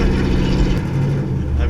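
A Chevy 350 V8 with its muffler deleted rumbles loud and deep from a steady, throaty exhaust, heard up close.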